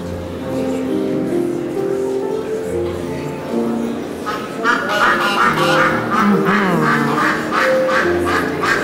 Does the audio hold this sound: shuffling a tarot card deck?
no